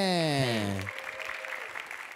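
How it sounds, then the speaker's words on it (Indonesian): Applause from the audience at a stand-up comedy battle show rises as a tonal musical sting fades, leaving a brief patter of clapping in the room. "Tepuk tangan sekali lagi untuk Ridwan Reme"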